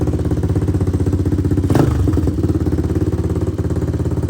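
A kick-started motorcycle idling as it warms up, a loud, close, steady rhythmic putter with a brief clattering rise midway before settling back to an even idle, no talking.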